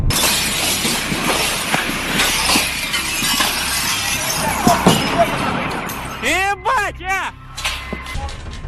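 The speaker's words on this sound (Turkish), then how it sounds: "Oluşturduğu şok dalgası yüzünden çevredeki 6 şehirde 7200 binanın camları kırıldı" Window glass shatters and crashes from a meteor's shock wave, a dense burst of breaking and debris noise, loud and continuous, ending with a few sharp tonal cries or voices over the din.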